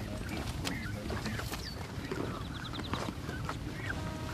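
Busy outdoor bird calls over a steady background hum: scattered honks, chirps and squawks from geese during banding, with a brief rapid run of calls midway.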